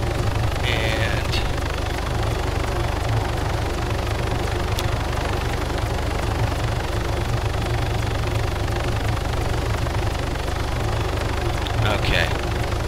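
An AH-9 light helicopter in Arma 3 flying with throttle applied, a steady low rotor and engine drone held at constant loudness throughout, with faint higher whines flaring briefly near the start and end.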